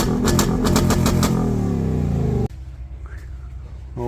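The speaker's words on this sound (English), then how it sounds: "now we're gonna get some courtesy revs" A 2024 Mustang GT V8 with a resonator delete, headers and an X-pipe revs hard in a deep, loud, pulsing burst, then cuts off abruptly to a quieter idle rumble.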